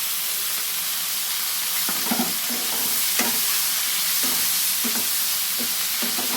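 Onion and tomato sizzle in hot oil with black cumin in a kadai while cooking a fish tel jhal. A steady, soft frying hiss runs throughout, with stirring scrapes recurring roughly every second.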